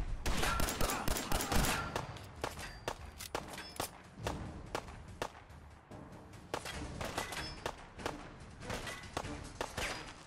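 Gunfire in Fallout 4 during a battle on a bridge: repeated sharp shots in irregular bursts and single cracks, some close and some farther off, steady across the whole stretch without talk.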